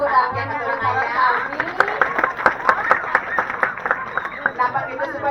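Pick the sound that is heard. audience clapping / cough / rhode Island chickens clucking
audience clapping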